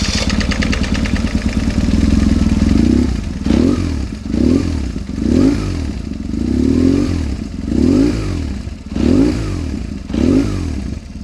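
A 2001 BMW R1150 GS custom scrambler motorcycle engine runs close by, its loud steady rumble broken by a series of rhythmic throttle blips and revs, with no talking.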